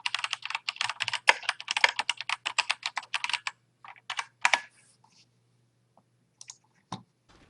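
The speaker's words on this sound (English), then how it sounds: "How you guys like the sound of that mechanical keyboard?" Rapid clacky typing on a mechanical computer keyboard, close and crisp, in quick bursts of keystrokes that thin out into a few scattered clicks.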